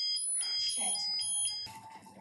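A fire alarm rings in a The Walking Dead episode, its high pulsing tones sounding continuously before a sudden burst of other noise near the end, with faint background voices.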